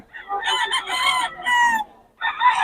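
A stag rooster crows at a market in Bocaue, loud and close, one full drawn-out crow followed by a shorter second call, with nothing else behind it.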